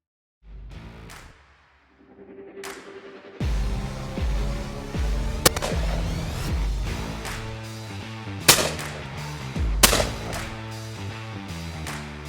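A Ruger Red Label 20 gauge over-and-under shotgun fires outdoors, several loud, sharp blasts spaced a few seconds apart, each ringing out over a steady background.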